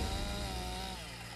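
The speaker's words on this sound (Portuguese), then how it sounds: "Para isso, usam uma motosserra." A chainsaw cutting a rhino's horn, its engine droning steadily, its whining pitch easing down slightly near the end; brief and heard at a moderate distance, with no voices.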